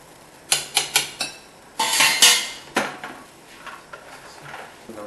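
A spoon mixing char siew marinade with a teaspoon of five spice powder in a bowl, a series of sharp clinks and scraping knocks against the bowl in uneven bursts, close and clear, without speech.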